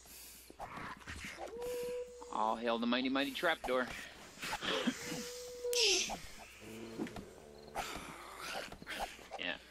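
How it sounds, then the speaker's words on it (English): Zombie dogs in the 7 Days to Die video game make strange, warbling, growling cries that rise and fall, mixed with game noises while players talk over them. "that is a crazy noise the dogs are making now"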